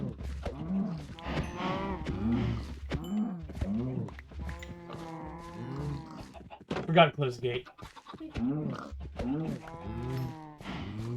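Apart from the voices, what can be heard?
cows mooing in the video game Minecraft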